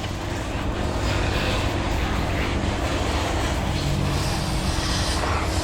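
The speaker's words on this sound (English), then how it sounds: "Truggies coming down that straightaway right now." RC truggies racing down a track straightaway, a steady, dense whine of small motors holding one level and heard from a moderate distance.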